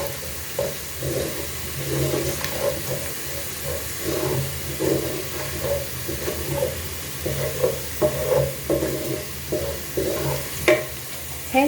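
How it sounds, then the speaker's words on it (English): Onions browning in a pot for pilau, a steady sizzle and hiss with repeated stirring scrapes throughout, close and fairly loud, with no voices. "you just brown your onions."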